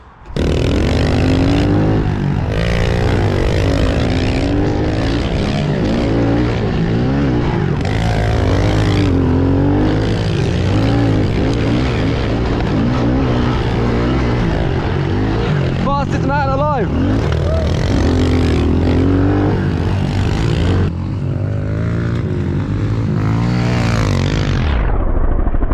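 A pit bike lapping a track, its small engine buzzing and revving loudly and continuously, rising and falling through gear changes, with a voice talking over it throughout.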